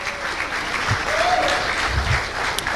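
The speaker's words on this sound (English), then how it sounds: "So please, let's clap for Tarragon once more." A conference audience applauds in a steady wash of clapping of moderate loudness, with a couple of brief low thumps and a faint voice briefly audible under it.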